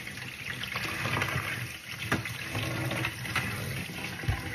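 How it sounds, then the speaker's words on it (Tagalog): Tap water runs steadily into a kitchen sink during washing, a continuous splashing wash with occasional small knocks and clatters, close and fairly loud, with no talking. "Dito ko na siya hugasan sa aming lababo"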